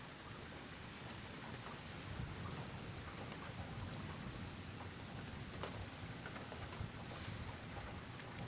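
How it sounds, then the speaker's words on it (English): Steady hiss of heavy rain during a severe night thunderstorm with intense lightning, with low rumbling thunder rolling underneath throughout, no voices. "It's a thunderstorm tonight."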